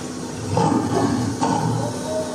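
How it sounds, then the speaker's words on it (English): A lion gives a low, rumbling growl at close range, swelling twice over a couple of seconds, moderately loud with no talk over it. "this lion just gave them a harmless growl"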